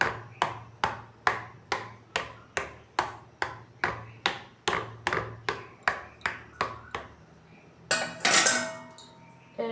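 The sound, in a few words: fork poking holes in egg pizza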